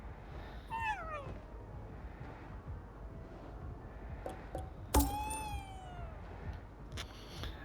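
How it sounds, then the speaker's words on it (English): A cat meows in the video game Ghostwire Tokyo, a few drawn-out rising and falling meows spaced apart over quiet ambient game background, fairly faint and distant. "sometimes you can hear a cat sound, and that indicates that there's an item that those cats wants to have in the area."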